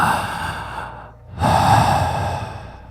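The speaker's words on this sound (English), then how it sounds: "then the breathing continued, slow and deep." Slow, deep breathing heard in a quiet room at night, close and steady, with long drawn breaths, a brief pause of near silence, then the breathing resuming louder.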